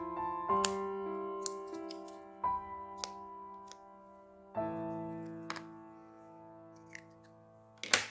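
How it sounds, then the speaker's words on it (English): A cutter knife shaves an ice cream stick to shape a calligraphy qalam, giving sparse, crisp scraping cuts and clicks alone in a quiet indoor room, with soft ringing tones in the background. "sharpen both sides of the stick with the cutter"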